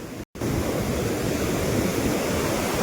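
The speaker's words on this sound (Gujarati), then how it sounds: "આ નદી આવે છે ફૂલ બે કાંઠે જવો" A mountain river in full spate on a Himalayan trek rushes near a wooden footbridge. Its dense, continuous roar is close and loud, broken only by a momentary dropout.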